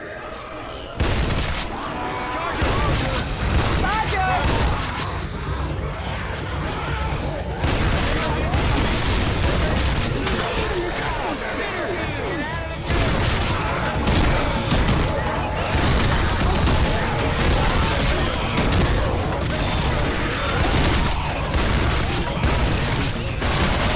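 Shotgun blasts from the chrome shotgun in Left 4 Dead 2, loud booming shots fired in quick succession amid continuous game noise, with a voice talking over the gunfire.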